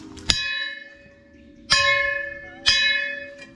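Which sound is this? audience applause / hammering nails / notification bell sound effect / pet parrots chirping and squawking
notification bell sound effect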